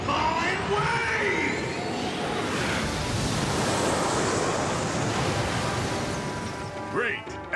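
A rushing blast of wind-like noise, Jetfire's turbine wave attack in Transformers Cybertron, surges loud and broad for several seconds and then fades, ending with a brief voice.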